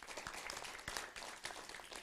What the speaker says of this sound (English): let's give My Club a round of applause